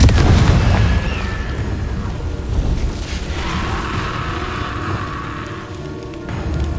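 Confringo fire spell explosions in the Hogwarts Legacy video game, a loud booming blast up front followed by a sustained crackling, rumbling roar that gradually eases.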